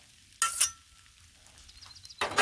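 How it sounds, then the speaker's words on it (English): Metal spatula scraping beef fried rice across a Blackstone griddle, heard as two bursts of gritty, sizzling scrapes separated by a quieter stretch of soft frying. "let me pull off another spatula so I can scrape a little"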